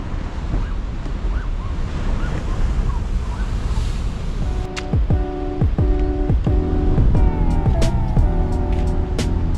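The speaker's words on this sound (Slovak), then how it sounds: "Ale nečudujem sa pri tom krásnom zvuku oceánu." Ocean waves wash steadily under gusty wind on the microphone, a loud continuous surf hiss, with sharp clicks and a passing engine-like hum joining in the second half.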